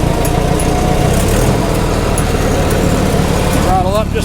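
A Minneapolis-Moline prototype crawler tractor engine runs loud and steady, a continuous low rumble with harmonic bands, rising slightly in pitch near the end as the throttle is opened.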